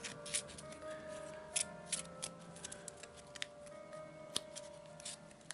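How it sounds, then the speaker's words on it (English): A deck of cards from a Mansions of Madness board game is shuffled quietly up close, with soft riffling clicks and irregular snaps and no talk. "So let's just give these a rubbish shuffle."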